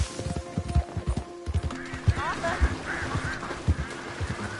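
Horse hooves clip-clop in Red Dead Redemption 2 with a steady, fairly close rhythm of soft thuds, while a rider speaks calmly to the horse over them.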